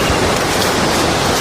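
Continuous downpour near a waterfall and dam canal, a loud, unbroken wash of rushing water and rain noise filling the brief moment with no talking.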